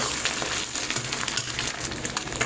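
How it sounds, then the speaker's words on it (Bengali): Small river baby fish frying in oil with salt and turmeric, a steady close crackling sizzle running continuously with no talk. "মাছটা দেখুন বেশ সুন্দরভাবে ভাজা হয়ে গেছে"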